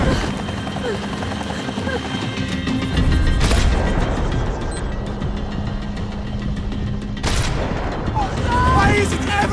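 Game gunfire in Max Payne 3 crackles in two sharp bursts over a constant loud rumble of engine and action noise, with voices shouting over it.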